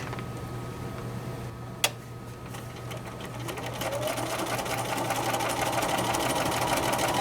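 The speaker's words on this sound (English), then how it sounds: "fold one over the other, right sides together, matching up the edge, and then I'll sew a 1/4 inch seam allowance" A sewing machine stitches a quarter-inch seam joining quilt backing fabric, its steady mechanical whir starting partway through after a single sharp tick and running on evenly up close with no talking.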